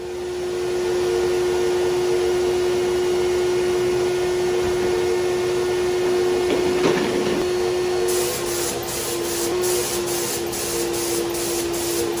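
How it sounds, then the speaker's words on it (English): An electric sander evens out the clear finish on an ash guitar headstock during a 1981 Jazzmaster build. It makes a loud, steady whirring drone with no break, and a rapid ticking rattle joins in over the last few seconds. "I am sanding most of it back."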